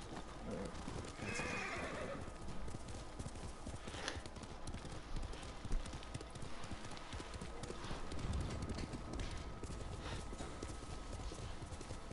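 Horse hooves clip-clop steadily with a brief whinny in the video game Ghost of Tsushima, quiet and distant under a constant background hiss.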